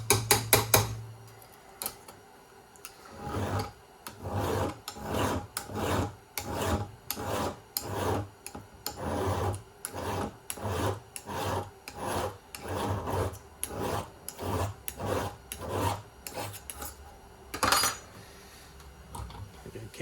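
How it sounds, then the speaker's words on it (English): A file rasps back and forth on a chainsaw chain held in a sharpening jig, taking the burr off in a steady series of roughly twenty close, even scraping strokes with a brief pause near the start. "I'm gonna roll that burr off."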